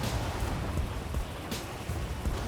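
Steady rain pours in the mountains in GTA 5 Online, a dense, hissing wash of drops across the whole scene, with faint rumbles underneath and no voices.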